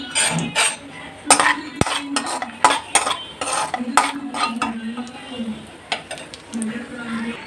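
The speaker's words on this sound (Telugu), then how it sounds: "ఇప్పుడైతే కొద్దిగా నెయ్యి వేసి కొద్దిగా జీడిపప్పునైతే వేయించుకుందామండి" Cashews fried in ghee in a pan are stirred with a metal utensil, giving sharp, irregular clinks and scrapes against the pan over a soft sizzle and a low hum.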